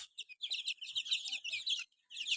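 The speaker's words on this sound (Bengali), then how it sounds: "এই গলাচিলা মুরগির বাচ্চা, মাশাআল্লাহ, এগুলো অনেক অ্যাক্টিভ আছে" A brood of lively naked-neck hill chicken chicks peeping continuously in a rapid, high-pitched chorus of overlapping chirps, close by, with one brief pause near the end.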